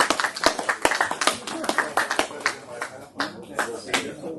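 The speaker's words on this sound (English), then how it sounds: "Nice round of applause there." A small audience at an auction during an early television convention claps for a few seconds, a close, sparse patter of individual hand claps with uneven rhythm that thins out and resumes.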